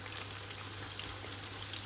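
Steady crackling sizzle of zucchini slices frying in a pan, a soft continuous patter with a low hum underneath, no voices.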